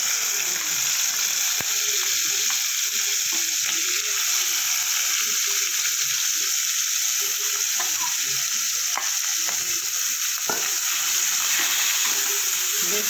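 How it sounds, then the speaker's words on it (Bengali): Shrimp sizzle and crackle steadily in hot oil in a home kitchen pan, a loud, continuous hiss with occasional sharper pops and no break. "চিংড়ি মাছটা ভেজে নেব।"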